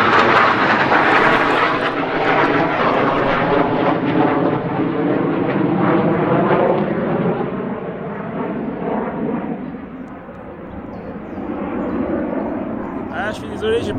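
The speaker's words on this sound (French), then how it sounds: "Encore un avion qui passe." An airplane passes overhead, a loud broad engine roar that swells at the start and slowly fades and recedes over the span, ending quieter.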